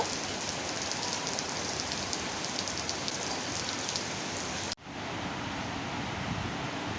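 Steady, dense rain pattering on a surface, broadband hiss throughout, briefly cutting out near the end before resuming slightly softer.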